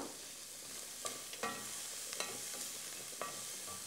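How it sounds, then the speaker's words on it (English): Diced carrot sautéing in a pan with garlic gives a low, steady sizzle, broken by a few louder stirring scrapes and clatters, heard up close with no voices. "Next goes in some carrot that's been diced so that it cooks quickly."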